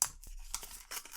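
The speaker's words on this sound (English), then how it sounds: "I'm going to unwrap it now just to see how it works." New art supply packaging bought at a craft shop is unwrapped, giving a few short crisp snips, tears and crinkles, close and quiet, with no talking.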